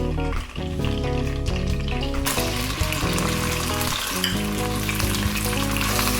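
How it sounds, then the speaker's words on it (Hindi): Ginger garlic paste fries in hot oil while cooking chicken chowmein, a dense continuous sizzle with occasional stirring scrapes, loud and close throughout. "अदरक लहसुन जो है वो ऑयल में अच्छी तरह से फ्राई हो चुके हैं"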